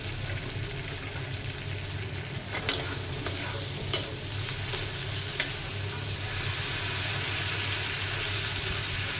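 Eggplant and mushrooms sizzle in spice paste in a pan while being stirred, a loud, steady frying hiss with a few sharp scrapes of the spatula and no voices.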